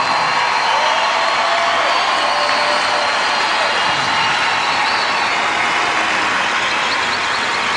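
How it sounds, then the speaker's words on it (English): A dense, loud wash of stadium applause for Serena Williams at the WTA Finals tennis trophy ceremony, a steady roar of clapping hands that continues unbroken throughout. "Give her a round of applause."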